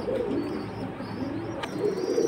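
Soft, low cooing of flyer pigeons rolls on steadily throughout, with a brief click partway through and a faint hum of surroundings.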